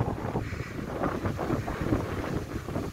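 Cold wind blows through a coastal village near Dhanushkodi in Tamil Nadu, a constant low rumbling gust buffeting the microphone without pause.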